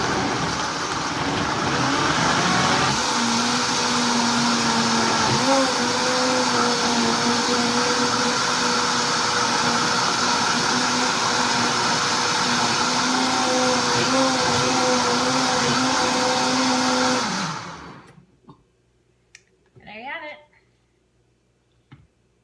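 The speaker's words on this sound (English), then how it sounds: "Watch how the Vitamix works." A Vitamix blender runs loud and steady for about seventeen seconds, blending raw marinara sauce with garlic, its motor pitch shifting slightly as the load changes, then cuts off abruptly and leaves near silence with a few faint sounds.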